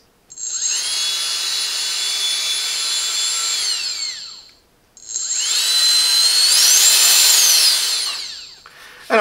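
Kica Jet Fan MAX electric blower spinning up to a high-pitched whine, cutting off, then starting again and rising in pitch as it boosts, loud and close with no talk.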